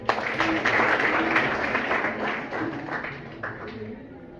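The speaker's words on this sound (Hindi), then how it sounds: "एक बार ताली बजाइए।" A school assembly audience at an inter college claps together in a dense, steady wash that stays loud and close for several seconds before thinning slightly toward the end, with faint voices mixed underneath.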